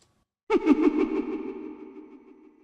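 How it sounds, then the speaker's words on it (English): Happy Mask Salesman laugh sound bite from the video game Majora's Mask, treated with reverb and echo: a sudden burst of rhythmic, pulsing laughter that rings out and trails off in a long echoing tail, with no other sound around it. "It says HMS Laugh Echo."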